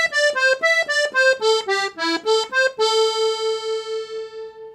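A piano accordion plays a rock and roll zydeco major pentatonic phrase starting on E: a quick run of clear detached notes stepping up and down, ending on a long sustained note that fades, close and loud.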